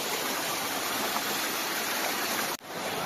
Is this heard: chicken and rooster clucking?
no